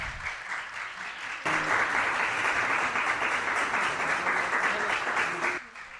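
An audience applauds at an international college conference in Una, Himachal Pradesh. Clapping swells abruptly into dense, sustained applause, holds steady for several seconds, then drops back at the end.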